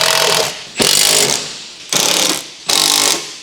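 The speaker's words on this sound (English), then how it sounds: "Use a large 13mm deep socket with an impact wrench. Tighten the bracket mounting bolts." An impact wrench fitted with a 13mm deep socket drives bracket mounting bolts on a 2010-2016 Land Rover Discovery 4 side step, firing four loud, close bursts of hammering, each roughly half a second long with brief pauses between them.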